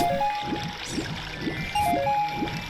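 Link swims through the castle moat in the Ocarina of Time video game, with a regular series of splashing strokes over game music.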